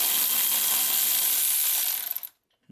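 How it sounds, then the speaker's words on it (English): Electric ratchet undoing a wheel hub bolt on a Chevrolet Silverado, a steady close-up mechanical whir and rattle running for about two seconds before cutting off abruptly into silence. "now we're gonna use our electric ratchet to undo the bolt"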